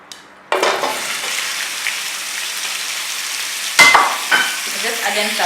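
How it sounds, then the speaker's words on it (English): Pork hits hot oil seasoned with black pepper and salt, bursting into loud, steady sizzling and crackling frying that continues with a brief stir and a louder spatter. "Just add in some pork."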